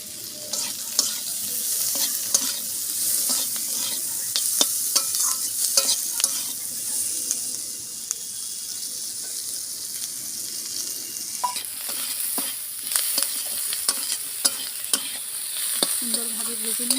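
Tomatoes and green chillies fry in hot oil for Maggi noodles, a steady close sizzle broken by frequent scraping and clicking stirs, with no voices.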